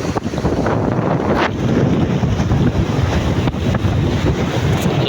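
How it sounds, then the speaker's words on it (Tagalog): Strong wind roars over a boat at sea in bad weather, with waves washing and slapping the hull, a loud, steady buffeting broken by occasional gusts, and no voices. "Wala namang ulan mga idol pero ang hangin ang tindi."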